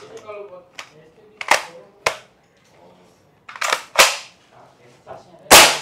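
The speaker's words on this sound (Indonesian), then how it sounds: "Sekarang kita akan coba dengan popor yang dipendekin, apakah enak sensasi menembaknya." A toy gun with a shortened stock fires several sharp, loud, close cracking shots at irregular intervals, with a voice talking quietly between them.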